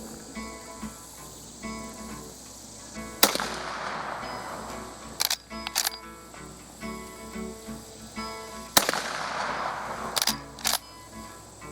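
Rossi R92 lever-action rifle in .45 Colt firing at a 25-yard range: two sharp, loud reports about five seconds apart, each followed by quieter metallic clacks of the lever being cycled, over steady outdoor background noise.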